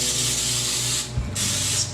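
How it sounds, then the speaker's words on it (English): Non-stick coconut oil cooking spray misted onto a baking pan, two close, loud continuous hissing bursts separated by a brief pause, with no voices. "Spray my pan so it won't stick."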